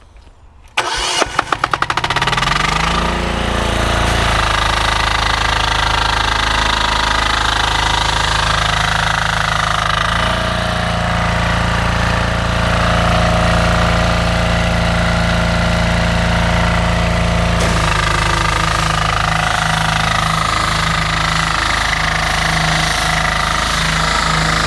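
A Loncin diesel engine driving a belt-driven Annovi Reverberi low-speed pump on a pressure jet washer cranks and starts, then settles into a loud, steady, close-up running drone with a shift in tone partway through.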